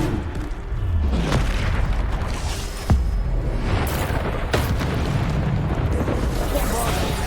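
Repeated Bombarda spell blasts boom and burst during combat in Hogwarts Legacy, with heavy rumbling impacts, sharp pops near three and four and a half seconds, and a constant dense roar of battle noise throughout.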